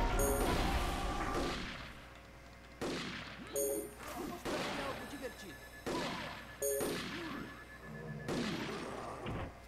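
Repeated gunshots from the online fantasy game Aika Online, a series of loud sharp blasts at irregular intervals, each with a short ringing tail, over a steady game background hum.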